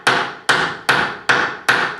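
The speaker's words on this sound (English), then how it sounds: "I'm going to hammer this wedge, which goes up into that bar, and it will stretch that bar upwards." Five sharp hammer knocks on a wooden wedge pushed into a canvas stretcher bar, evenly spaced about half a second apart, close and crisp with short woody decay, no talk.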